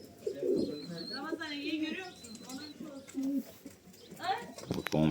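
Pigeons coo in a loft full of birds with young on the floor, their low, rolling calls repeating up close, while someone talks over them and wings flap briefly near the end.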